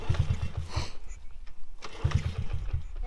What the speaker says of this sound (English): Start the dirt bike, man.